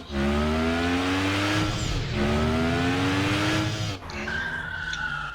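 A BMW in the Roblox Vehicle Simulator game revs hard through repeated rising gear pulls, with tires squealing and skidding over a loud, close engine drone that briefly drops and shifts near the end.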